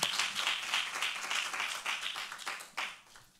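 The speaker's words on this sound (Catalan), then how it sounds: "Un aplaudiment, sisplau." An audience at an award ceremony applauds with steady, moderately loud clapping that swells and then tapers off, with no talk over it.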